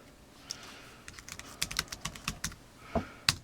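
Fingers typing on an Impecca Bluetooth bamboo keyboard, a sparse, irregular run of crisp, close key taps.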